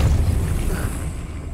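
A Depulso spell blast in Hogwarts Legacy lands as a deep booming burst that rumbles and fades over a second or so, with no voice over it.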